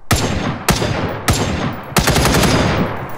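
Four heavy sniper rifle shots boom from the video game The Front, spaced roughly half a second apart, each a loud close crack trailing into a decaying echo.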